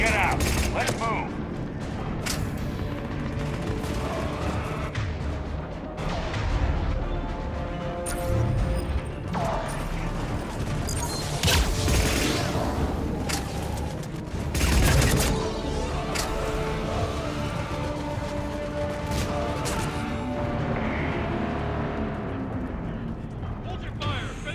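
Mass Effect 3 combat fills the scene with bursts of automatic gunfire, heavy impacts and mechanical clanks, loud and layered throughout. Voices talk over much of the fighting.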